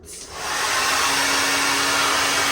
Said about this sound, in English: take my blow dryer and I'm gonna blow dry her on hot